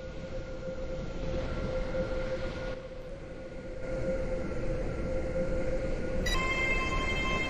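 Class 801 train on the Stepford Express service in the Roblox game Stepford County Railway, running with a steady loud rolling rumble and a sustained tonal whine, with a brief dip in level partway and a bright chime-like tone near the end.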